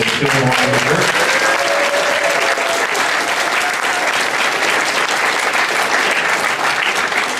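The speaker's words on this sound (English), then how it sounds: "please give me a round of applause" Audience applause at an Anime Expo 2013 visual novel panel, a full, steady burst of clapping from a convention crowd that holds evenly throughout, with a voice briefly audible at the start.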